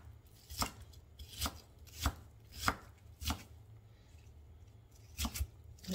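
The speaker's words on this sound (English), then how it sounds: "we're going to give all of this a really nice chop" Knife chopping a pile of cold onions thin on a cutting board, a slow series of distinct, close, crisp chops spaced about a second apart, with a short double chop near the end.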